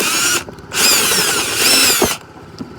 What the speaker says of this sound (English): then we'll drill that out